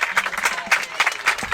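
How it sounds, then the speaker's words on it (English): Crowd applauding at a Cal Ripken 10U youth baseball World Series game, a steady patter of claps from a modest outdoor crowd, fairly close and continuous. "As the crowd claps for him."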